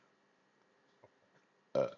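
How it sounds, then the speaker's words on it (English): A single short, close burp erupts near the end after near-silence, with a faint murmur just before it. "Oh, burp, sorry."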